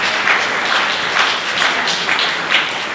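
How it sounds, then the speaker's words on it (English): An audience at a principals' retreat opening ceremony applauds, a dense, loud wash of many hands clapping together with slight swells, sustained throughout without speech. "Can we give Dr. Evans another round of applause"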